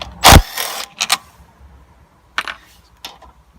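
Short bursts from an impact wrench removing bolts on a Honda HRH536 lawn mower: one loud rattling burst, then a few quicker, quieter hits spaced apart.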